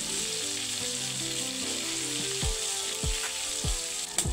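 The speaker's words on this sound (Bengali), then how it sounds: "আমি অপর সাইডটা এখন ভালো করে ভেজে নিচ্ছি।" Pangas fish frying in hot oil gives a continuous close sizzle and crackle, with a few sharp scraping clicks of a utensil turning the fish near the end.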